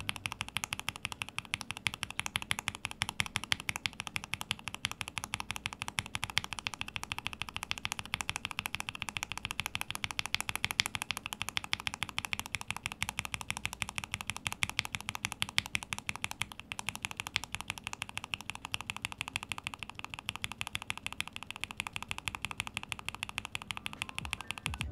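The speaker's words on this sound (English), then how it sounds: "we're gonna run some sound tests of a looped and unlooped switch for both variants." Steady clacking of mechanical keyboard switches, a dense continuous run of keystrokes, close and clear with no voices.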